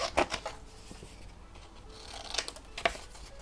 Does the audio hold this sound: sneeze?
no